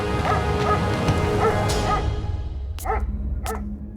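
A dog locked in a bathroom barks and yips repeatedly, its calls muffled and overlapping at first, then two sharp, distinct barks ring out clearly near the end.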